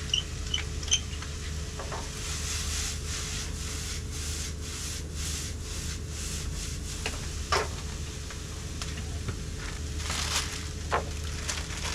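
Pepper ground over a pan of mince and vegetables cooking for crocodile spring rolls, a steady gritty grinding and rubbing that runs throughout with small clicks, fairly quiet and with no talk.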